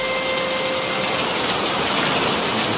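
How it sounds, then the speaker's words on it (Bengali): Rain pours steadily in a dense, loud hiss with no pauses; no distinct thunder rumble stands out and no one speaks. "ওই দেখো আবার মেঘ ডাকছে। এ বৃষ্টি থামার মতন বৃষ্টি নয়।"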